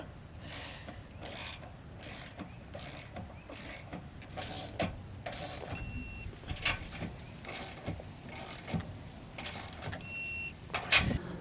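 Ratchet wrench clicking in repeated bursts while tightening and torquing the nuts on an Ultra-Fab 2-inch motor home trailer hitch receiver, with steady metallic ratcheting and small clanks close by throughout.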